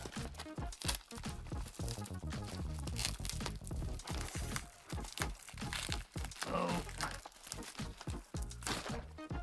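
A heavily taped mail package from Germany being unwrapped, with continuous close crinkling, tearing and crunching of tape and wrapping in dense, irregular bursts, no talk.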